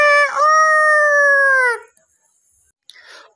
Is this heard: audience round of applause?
no